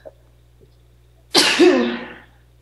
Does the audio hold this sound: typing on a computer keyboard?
no